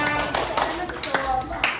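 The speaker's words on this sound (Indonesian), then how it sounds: "Beri tepuk tangan untuk kelompok Fatimah." A classroom of students claps for a group after a lesson, a brief burst of scattered hand claps close by, with a teacher talking over it.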